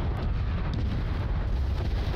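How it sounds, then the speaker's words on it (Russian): An artillery barrage rumbles in the video game Crossfire Legion, a dense, continuous low roar of overlapping explosions that stays fairly even throughout. "а сюда мы накидываем артобстрел."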